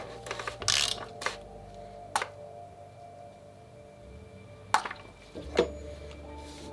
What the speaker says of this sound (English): We're going to ratchet just to tighten it up.